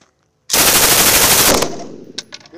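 A heavy machine gun fires one sustained loud, close burst of rapid shots during a U.S. Air Force Security Forces live-fire exercise, followed by a few scattered distant shots.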